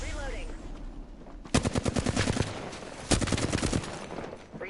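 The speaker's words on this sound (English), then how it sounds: "Taking fire." Automatic weapons fire in the video game Apex Legends comes in two loud, close bursts of rapid shots, the second starting after a short pause, with a faint hum underneath.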